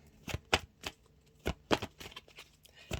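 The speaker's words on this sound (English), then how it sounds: "That was just me not shuffling very well" Tarot cards are shuffled by hand in a quiet room, giving a series of sharp, close riffling snaps and flutters at irregular intervals, roughly seven bursts with soft shuffling between them.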